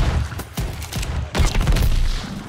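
Loud bursts of gunfire and booming weapon noise ring out during a Call of Duty Vanguard zombies match on the Shi No Numa map, dense and continuous, with brief swells of blasts and no clear talk.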